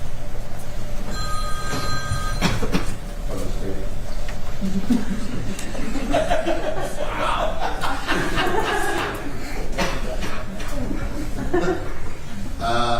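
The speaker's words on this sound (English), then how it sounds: "Is there a particular reason that phone went off?" A mobile phone rings in a courtroom, its repeated electronic tones cutting through murmurs, chuckles and soft laughter from people nearby, with speech-like voices throughout.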